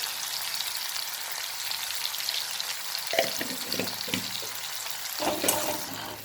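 Tomatoes frying in oil in a pan while upma is cooked, with turmeric and salt added: a steady, close hiss of sizzling throughout, with a couple of louder bursts of clatter or stirring partway through.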